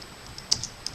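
Keys on a computer keyboard are tapped in a quick short burst of a few clicks, close and moderately loud, with no talking.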